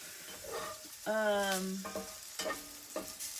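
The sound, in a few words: food frying and sizzling in a hot pan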